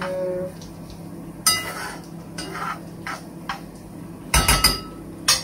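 Dishes are washed by hand at a home kitchen sink, with scattered clinks of plates and cutlery and a louder clatter of several knocks near the end, over a quiet background hum.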